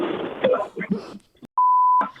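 A phone call's ringing tone sounds as a single steady electronic beep held for about half a second, clear and loud in a podcast studio, following a stretch of people talking.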